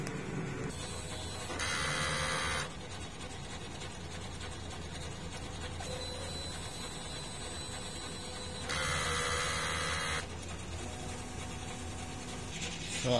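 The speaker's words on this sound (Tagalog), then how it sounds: "So next naman po is mag-head clean." A DTF printer runs a print head cleaning cycle, giving a steady low mechanical hum with two louder whirring pump or carriage bursts, one near the start and one later, and faint scraping between them. Nobody speaks.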